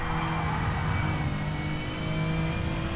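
A VRC Super Touring race car engine in the Assetto Corsa video game hums steadily at a sustained drone, loud and continuous without pauses.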